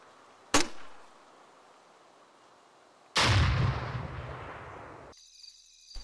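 A grenade launcher fires in the Half-Life 2 mod Ace 2: a sharp single launch thump, then about two seconds later a loud, broad blast that rumbles and fades, followed by a brief electronic whine.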